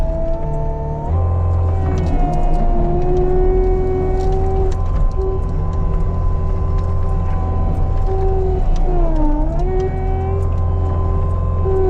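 A small 25-horsepower tractor with a front bucket pushes a dirt pile, its engine droning loud and close, briefly dipping under load before settling back to a steady rumble.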